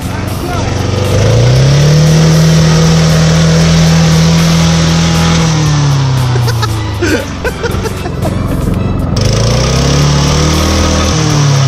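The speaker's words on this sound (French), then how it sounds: "Allez, un petit wheeling." Motorcycle engine revving hard through a wheelie, a loud close roar that holds high, dips, then climbs again, with a rider's voice over it.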